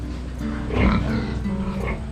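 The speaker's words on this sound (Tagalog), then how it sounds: "Bali ito yung mga baboy namin guys." Pigs on a rural Philippine farm grunt and snuffle as they finish eating, a steady close-up mix of low oinks with a louder grunting swell midway and no talking.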